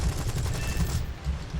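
Rapid bursts of Hispano cannon fire from a Tier II British aircraft in the War Thunder flight game, a loud dense rattle of shots over steady engine drone, running continuously with brief dips.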